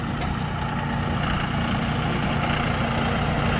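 A tractor engine rumbles as it drives up on a ranch, a steady low idling drone at moderate distance with no voices.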